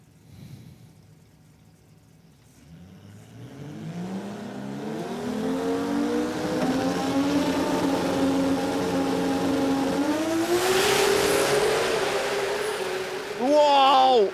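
Twin 2JZ-powered Holden drag race cars launch together at a drag strip, engines roaring up through gear changes in a loud, sustained rising howl that holds strong to the end, with a short burst of popping near the close.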